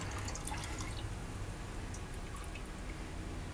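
Kombucha trickling and splashing into bottles, a faint continuous pour with small drips, quiet and close, no voices.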